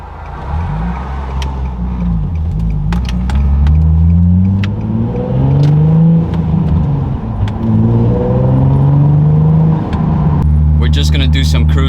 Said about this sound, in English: So yeah, let's go hear the exhaust.